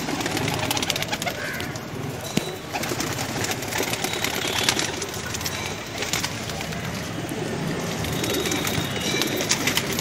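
Pigeons kept in a loft, flying breeds, coo and rustle together in a dense, continuous flock murmur at close range, with occasional wooden knocks and no talk.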